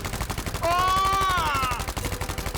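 Rapid automatic gunfire in Battlefield V, a fast, loud stream of shots close by, with a brief voiced shout rising over the firing midway.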